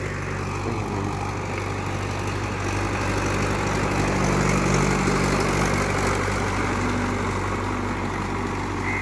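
A Mahindra 575 DI tractor fitted with cage wheels drives steadily, its low diesel engine drone continuous and fairly loud throughout with no talk over it.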